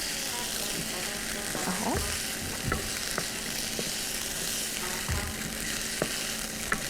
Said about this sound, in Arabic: افضل اقلب فيها كده شويه لحد ما تاخد لون معايا